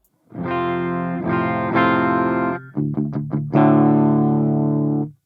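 Electric guitar played dry without the REVV G4 distortion pedal engaged: sustained chords ringing out, a pause for a few quick plucked notes, then another held chord, loud and close with no talking.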